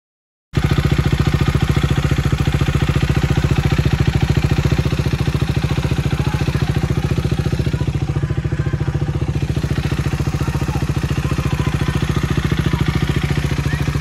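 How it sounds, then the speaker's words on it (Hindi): A motorbike engine running steadily at idle in hot weather, a loud continuous close-up rumble with faint clatter that carries on evenly throughout with no talk. "अभी बाइक स्टार्ट हुआ अभी अभी फाइनली स्टार्ट हो गया"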